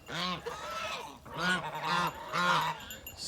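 African and Chinese geese honk loudly and nearby on a farm by the water, calling in three harsh, nasal bursts with short pauses between them.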